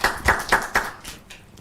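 A few rhythmic hand claps ring out at a live public question-and-answer forum with a government official, several evenly spaced claps that quickly thin out and fade.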